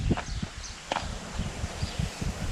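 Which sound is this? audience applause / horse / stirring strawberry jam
horse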